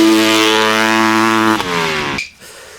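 A 1985 Honda CR500 two-stroke dirt bike engine runs loud and close with a steady harmonic drone, shifting pitch briefly before cutting off near the end.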